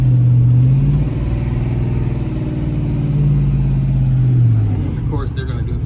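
A 1968 Chevrolet C10 pickup's engine rumbles and revs in traffic, a loud, deep, throaty tone that rises and falls in pitch across a few seconds, with a voice talking over it.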